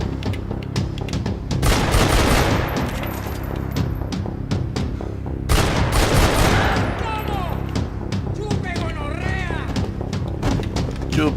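Sustained gunfire in the shooter game Max Payne 3, loud, dense bursts and booming shots running almost nonstop, with someone talking over the shooting.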